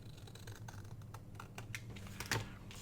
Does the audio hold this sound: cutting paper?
yes